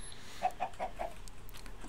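Four quick clucks from a chicken in a Minecraft-style video game, evenly spaced and moderately loud over a quiet background.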